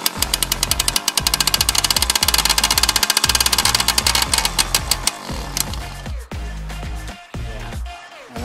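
A Suzuki JR50 dirt bike engine, kicked with the choke on, fires and runs with a rapid, loud, close two-stroke chatter, then sputters, falters and dies out into uneven pops toward the end.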